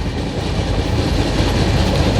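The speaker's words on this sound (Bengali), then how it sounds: "শহর উপর দিয়ে ট্রেনটা চলে যাচ্ছে" The Howrah–SMVT Bengaluru SF Express train rumbles steadily along the tracks through Vizianagaram town close by, a loud continuous roll with faint rhythmic clatter from the wheels.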